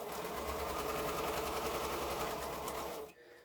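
A sewing machine stitches quilt pieces at a steady, fast run, close and continuous for about three seconds before cutting off abruptly.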